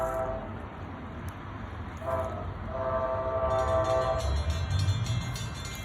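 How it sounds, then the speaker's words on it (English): New Jersey Transit northbound train X-2117 to Spring Valley passing Anderson Street Station, its horn sounding in sustained blasts over a steady rumble of rail cars. "So here's the horn."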